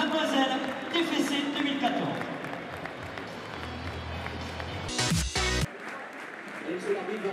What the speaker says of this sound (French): applaudissements pour Wendy